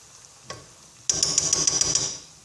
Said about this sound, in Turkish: Arkadaşlar gördüğünüz gibi soğanımız kavruldu